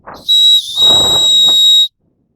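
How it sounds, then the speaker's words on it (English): A loud, shrill whistle built into a backpack chest strap sounds close up in one sustained blast lasting about a second and a half, with breathy puffs around it, then it stops abruptly. "they incorporate a whistle in their chest strap"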